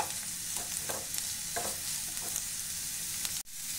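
Vegetables for veg chowmein sizzle loudly in a hot pan, with repeated scraping stirs about every half second over the steady frying hiss and a brief sharp knock near the end.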